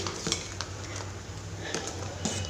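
Spoon clinking and scraping in a pot while spice powders, including fenugreek powder, are stirred into Telugu-style dal, with several sharp metallic taps over a low steady background.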